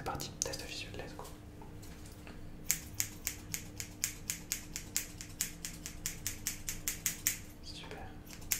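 Close-up scissors snip near the ear during an ASMR cranial-exam vision test, a long, even run of crisp metallic clicks repeating quickly and steadily, with soft whispering faintly underneath.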